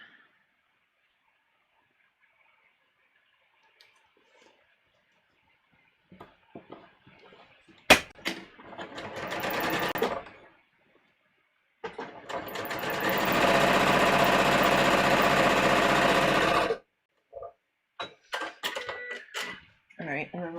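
A sewing machine stitches a bust dart on a muslin bodice in two quick, loud bursts, the longer one lasting about five seconds, with clicks and handling sounds around them and someone speaking briefly.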